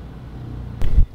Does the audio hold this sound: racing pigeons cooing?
no